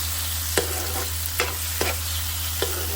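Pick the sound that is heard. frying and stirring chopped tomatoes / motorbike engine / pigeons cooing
frying and stirring chopped tomatoes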